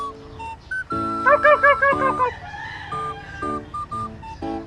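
A turkey calls repeatedly in short, loud, tonal bursts, a rapid burst of gobbling notes in the middle, with quieter calls before and after.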